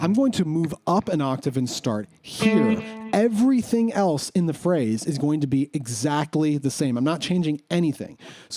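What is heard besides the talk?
No everyday noise stands out behind the speech.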